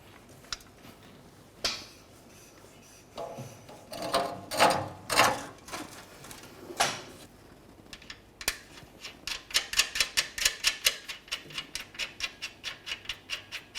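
A ratchet tightens fuel tank shield mounting bolts on a 2004-2015 Nissan Titan: a few scattered clicks and rubs early on, then a quick run of rapid, even ratchet clicks up close, with no talk.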